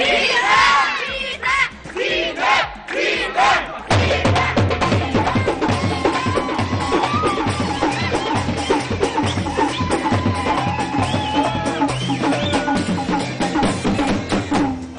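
A large crowd cheers, shouts and whoops loudly and without a break at a neighbour's birthday celebration, with voices calling out through the din.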